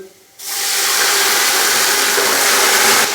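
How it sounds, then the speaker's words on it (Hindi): A sudden loud sizzle and hiss bursts out as a spoonful or two of water hits onions frying in a hot pan, then holds as a steady, close, steaming roar. "तो अभी मैं इसके अंदर थोड़ा सा पानी डालूंगा, 1 से 2 खाने के चम्मच"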